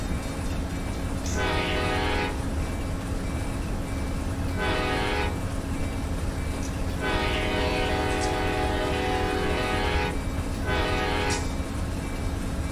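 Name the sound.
Amtrak Silver Star train passing, Run 8 Train Simulator video game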